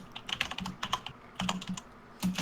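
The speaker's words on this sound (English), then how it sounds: "Who is typing like a madman?" Rapid typing on a computer keyboard: quick clusters of crisp, close keystrokes with brief pauses between bursts, fairly quiet and with no voices.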